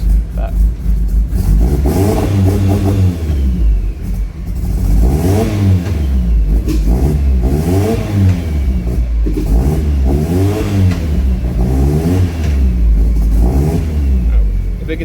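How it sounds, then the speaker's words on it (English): Sequential dog-box five-speed gearbox on a 3RZ turbo car whining loudly in reverse, a steady, noisy geared drone rising and falling in repeated sweeps over the engine, with some talk underneath. "Typical sounding dog box, really noisy."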